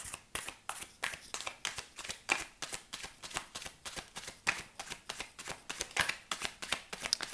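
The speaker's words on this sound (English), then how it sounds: "I will now shuffle for one card, please." Zodiac sign cards are shuffled by hand in a quiet room, a fast, regular run of crisp riffling snaps repeating close to the listener.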